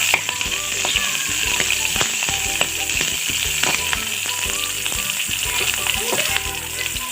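Onion and green chili fry in hot oil as a spoon stirs the pan, giving a loud, continuous sizzle broken by clattering scrapes and knocks close by, with no talking.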